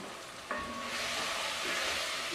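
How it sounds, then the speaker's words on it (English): Tomato puree stirred in a pan of hot oil gives a steady, close sizzle with a brief scrape as the spoon moves, the frying hiss continuing evenly throughout. "Give it a stir."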